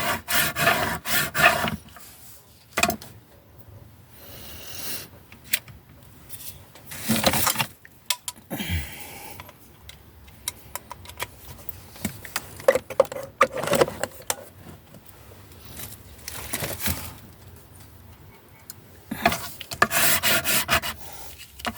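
Glued paper being burnished down by hand on a handmade Hocus Pocus spell book, giving close, dry rubbing and scraping strokes in irregular bursts with quieter pauses between them.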